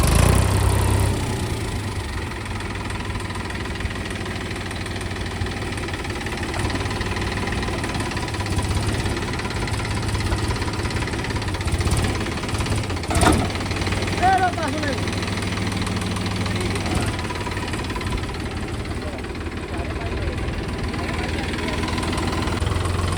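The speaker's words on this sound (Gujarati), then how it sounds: "હરપાલજી બેસી ગયા છે ટ્રેક્ટર ઉપર." A low, steady old tractor engine idles throughout with a constant rumble and slight knocking, while people talk nearby over it.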